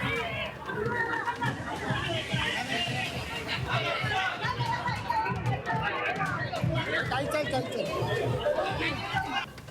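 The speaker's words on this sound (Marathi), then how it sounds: "शिवसैनिकांची मोठी या ठिकाणी गर्दी झालेली पाहतोय" Shiv Sainiks gather at Anand Ashram in Thane to celebrate Ravindra Phatak's unopposed win, and the crowd keeps up a dense, lively hubbub of shouts, chatter and excited voices nearby.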